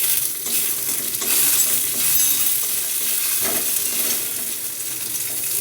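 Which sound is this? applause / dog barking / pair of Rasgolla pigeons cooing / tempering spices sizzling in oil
tempering spices sizzling in oil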